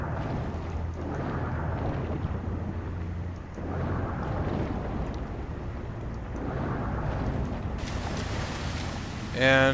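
A waterfall in the Darksiders video game gives a steady, full rushing roar that runs continuously and evenly, with a brief burst of other game sound at the very end.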